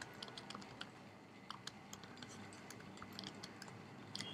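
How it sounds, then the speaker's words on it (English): Soft, quick keyboard typing with irregular clicks and short bursts of keystrokes, fairly quiet and close, with no talking. "live typing of code may cause issues."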